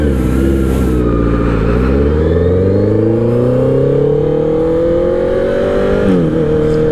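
A LAMS Honda CB650R motorcycle engine roars close and loud from the rider's seat, revving steadily upward through a gear, dipping once and climbing again under constant wind noise.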